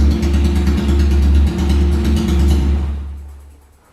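A motorcycle engine idles steadily close by with a strong low throb, then is switched off around the three-second mark and fades into quiet.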